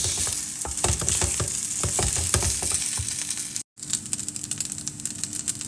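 Two eggs frying and being stirred into fried rice with sausage, loud crackling sizzle with rapid scraping of the spatula against the pan, a brief cut-out near the end, then the sizzle resumes.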